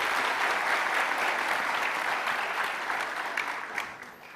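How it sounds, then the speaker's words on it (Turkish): Sustained applause from a large crowd honoring faculty members at a law faculty graduation ceremony, a dense steady wash of many hands that fades slightly toward the end. "kocaman bir alkış rica ediyorum sizlerden"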